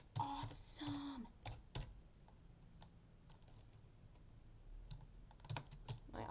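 Quiet close-up keystrokes on a computer keyboard while a web page title is typed, scattered taps and short bursts with pauses between, a brief voice fragment near the start.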